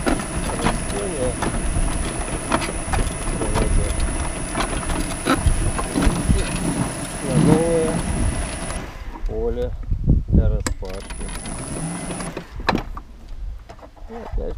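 Electric motor cultivator with a frequency drive rolling along on its tiller blades through a field of green manure, a steady whirring mechanical rattle with a high whine that cuts out, while someone talks over it.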